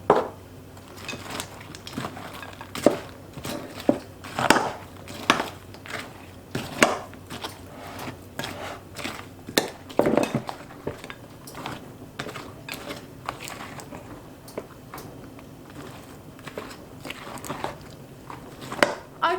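A spoon stirs broken biscuits and pistachios into melted chocolate for a banana mosaic cake, producing irregular crunchy scrapes and soft clicks close by, with no talk.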